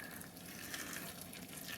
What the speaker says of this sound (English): Right, in goes the water now.